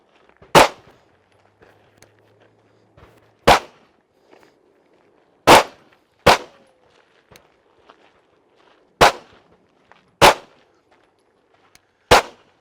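Handgun shots fired on an outdoor shooting range at close range, seven sharp, loud cracks spaced irregularly over several seconds, with faint rustling and quiet background between them and no talk.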